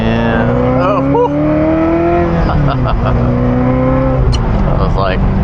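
The engine of a Ferrari 348 on the road revs hard under partial throttle, rising and falling through gear changes with a loud, strained, continuous note, up close from inside the car.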